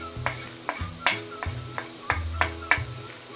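A tomato and vegetable masala with turmeric fries for a vegetable biryani, with a quiet sizzle under repeated sharp clinks of a spoon knocking the pot as it is stirred, about a dozen strikes in an uneven rhythm.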